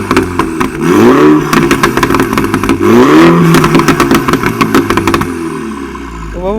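A Mini JCW with a 300 hp engine revs hard with its exhaust valves open, loud and close, rising and falling through repeated throttle blips with crackling pops before settling toward idle at the end.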